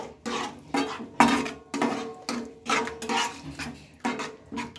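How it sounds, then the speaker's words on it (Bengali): A spoon scrapes and knocks against a pan as bread fry is stirred after a little water is added, giving a steady run of about nine clinking, scraping strokes, close and fairly loud with no talking. "তো দেখো জলটা দিয়ে আমি একটু নেড়ে চেড়ে নিচ্ছি"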